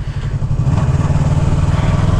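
A Yamaha R3 parallel-twin sport motorcycle engine running close by, a loud low throbbing with a steady pulsing rhythm that rises slightly in pitch as the throttle opens, with no talk.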